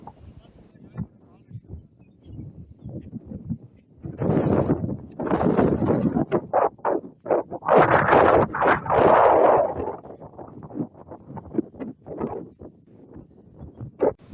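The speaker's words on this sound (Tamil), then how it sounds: "செம்மையாக காற்றடிக்குது." Strong wind buffets the microphone at a hilltop viewpoint in a Kerala forest, rising to loud rumbling gusts in the middle and easing off again, with voices heard faintly now and then.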